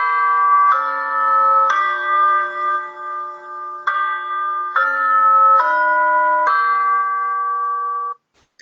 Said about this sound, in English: That's something you can strike. They're called chimes.